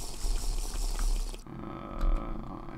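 Drinking water in the Crafting Dead Minecraft mod makes a continuous watery, gurgling liquid sound that changes character partway through, fairly loud and steady throughout.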